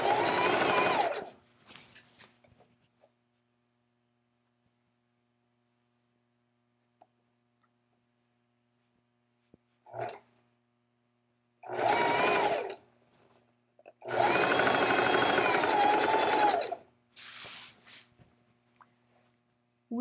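A sewing machine stitches the side seam of a garment in a few separate runs: a short burst, a brief blip, then longer loud stretches with quiet pauses between.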